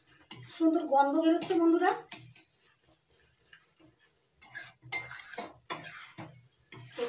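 Mashed bean (shim) mixture stirred in a pan, with a spoon clinking and scraping against the metal in short repeated strokes at close range, broken by a pause and interleaved with a voice talking.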